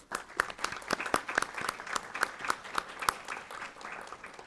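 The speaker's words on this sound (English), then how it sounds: "Let's give them a round of applause." Sparse, distinct hand claps from a small group at a school board public hearing, fairly faint and irregular, each sharp clap standing out against a quiet room.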